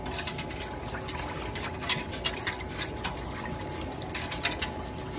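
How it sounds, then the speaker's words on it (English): Water runs from a tap into a water bath canner, a steady splashing fill with small bubbly bursts and gurgles over a constant rush. "we're filling up our water bath canner so we can get that water to the boiling state"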